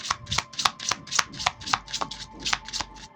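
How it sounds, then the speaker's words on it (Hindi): Tarot cards being shuffled by hand up close, a rapid rhythmic series of crisp riffling and slapping bursts, about a dozen in quick succession, with no voices. "So let me shuffle more."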